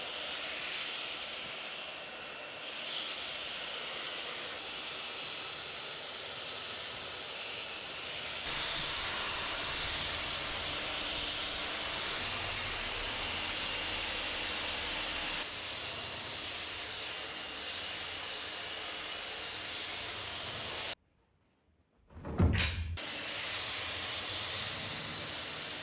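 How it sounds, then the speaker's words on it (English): A massive belt sander grinds steadily along timber posts cut from homestead trees, a loud continuous broadband roar with a brief pause and restart near the end. "power this massive belt sander to sand these posts"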